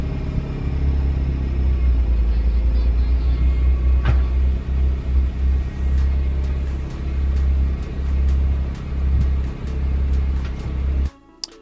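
A 2025-era Honda CR-Z with an HKS Silent Hi-Power catback exhaust gives off a steady, deep, close engine rumble for about eleven seconds, with small dips and swells, a brief sharp click near four seconds, and an abrupt cutoff at the end.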